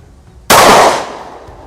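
A single loud, close gunshot from a Glock 43X pistol fired at a range, a sharp crack followed by a fading tail, with no voices.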